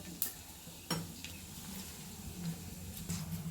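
Mustard seeds, urad dal and cumin spluttering in hot oil for a neem flower kuzhambu, a quiet sizzle broken by a few sharp isolated pops and metallic clinks of a spoon against the pan.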